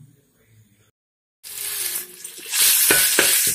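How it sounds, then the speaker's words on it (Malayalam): Onion and red chilli fry in hot oil in an uruli, starting after a quiet pause as a loud sizzle that swells, with stirring scrapes near the end. "ഉള്ളി ഇട്ട് മൂപ്പിച്ചുകൊണ്ടിരിക്കുകയാണ്"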